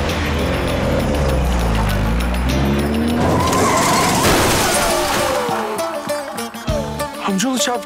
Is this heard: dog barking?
no